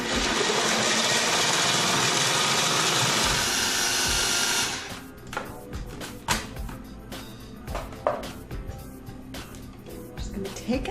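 Food processor blade whirring through nuts, a loud steady grinding roar for about four and a half seconds that cuts off, followed by quieter clattering and scraping sounds.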